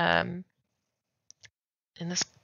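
Two quick, faint computer mouse clicks sit in a quiet gap between stretches of someone talking at a desk while entering a contact in an address book app.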